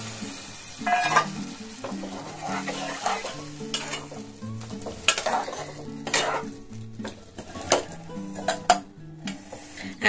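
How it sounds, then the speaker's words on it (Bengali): Water hits a hot pan of spices for a Bengali katla fish and pointed gourd curry, sizzling and hissing near the microphone while a utensil clinks and stirs in a steady, uneven rhythm throughout, with no voices. "দিচ্ছি একটু জল উপর থেকে"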